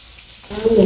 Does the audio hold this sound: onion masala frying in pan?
yes